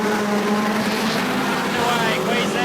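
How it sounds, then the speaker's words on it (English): National 4's race cars at Carina Speedway roar as revs climb at the start of a Queensland title A-Main, a dense, loud wall of engine noise with a race caller talking over it. "Revs rise and away we go."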